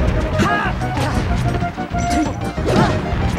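Forward smash attacks striking in a chaotic Super Smash Bros doubles match, a dense run of loud crashing hits and whacks over constant game noise, with commentators' voices mixed in.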